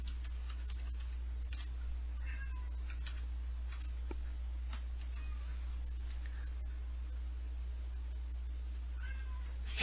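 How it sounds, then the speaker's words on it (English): Cats meow and cry faintly indoors, with scattered short calls over a steady low hum and light ticking in the background. "Why the hell did the cats just wake up out of nowhere and just decide to start crying?"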